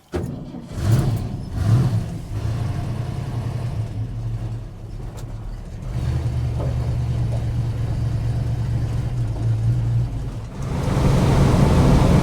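A 1965 Ford Mustang Shelby with a new Shelby drop front suspension drives along, its engine giving a steady low rumble that dips briefly and then grows louder near the end, with no talk.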